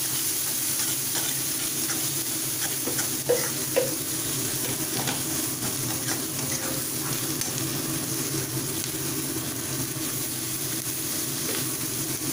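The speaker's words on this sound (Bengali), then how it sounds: "এবার আবার মশলাগুলোকে ভালোভাবে নাড়িয়ে দেবো" Spices with cumin powder, Kashmiri chilli powder and turmeric frying in a pan, a constant close sizzle and hiss with a couple of brief clinks and scrapes as they are stirred.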